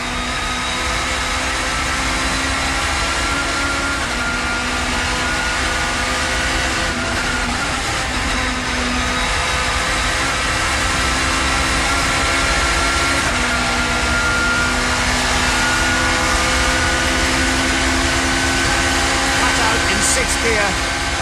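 Touring cars at speed through Church Corner, taken at around 160 mph in a 1990s championship, make a steady loud engine drone with shifting tones, while a commentator speaks over it.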